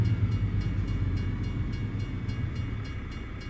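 An Amtrak train in American Truck Simulator rumbles steadily past with a low continuous roar and faint rhythmic clicking, fairly loud and uninterrupted, with no voices.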